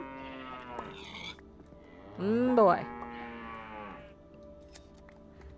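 Cows moo in the Minecraft Sky Factory modpack, one loud, rising-and-falling moo in the middle with softer lowing before and after, while a voice speaks briefly.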